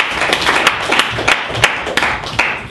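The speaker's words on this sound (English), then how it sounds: "round of applause" An audience gives a round of applause after a performance, a sustained, lively burst of many hands clapping close by, with sharp individual claps standing out over the steady wash.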